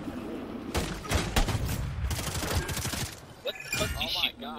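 Rapid bursts of gunfire in an online first-person shooter game, several close volleys and single shots spread across the moment, mixed with game ambience while players talk over it.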